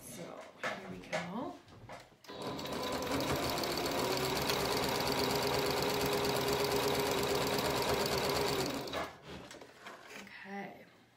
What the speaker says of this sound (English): I find it's easier to just stitch it in place and then stitch over the first line of stitching when I add it to the garment